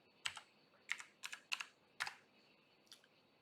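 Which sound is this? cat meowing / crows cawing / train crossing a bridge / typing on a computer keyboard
typing on a computer keyboard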